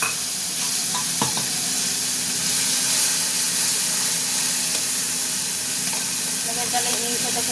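Tomato dropped into hot oil with asafoetida, sizzling and hissing loudly and steadily up close, with light stirring and a voice speaking over it.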